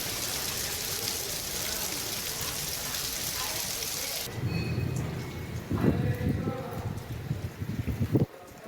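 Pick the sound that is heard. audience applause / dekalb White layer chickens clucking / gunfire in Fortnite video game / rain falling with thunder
rain falling with thunder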